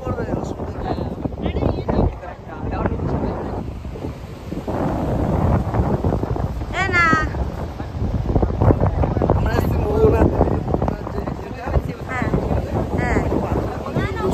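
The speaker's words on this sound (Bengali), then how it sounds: "সমুদ্রে আওয়াজ দেখো" Steady roar of sea waves and gusting wind buffeting the microphone on the beach at Digha, with people talking throughout.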